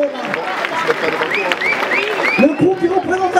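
Audience applause and crowd noise for the Spanish dance crew FRESHSTYLE from Barcelona at a breakdance battle, steady and dense throughout, with an announcer's voice and sung or whooping tones riding over the clapping.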